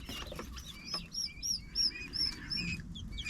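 Chicks peep in a run of high, thin chirps over a low background rumble, the calls overlapping and repeating throughout.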